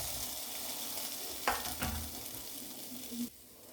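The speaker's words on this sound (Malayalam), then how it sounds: "നമുക്കതിലേക്ക് ഉരുളക്കിഴങ്ങ് ഇട്ട് കൊടുക്കാം." Chopped potatoes dropped into a hot pan, quiet frying hiss with a couple of sharp clatters as the pieces land and get moved, then the sizzle settles down, no voices.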